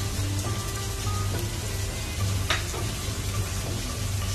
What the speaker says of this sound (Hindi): तीन से 4 मिनट हम इसको भूनेंगे जब तक गोश्त का कलर ना चेंज हो जाए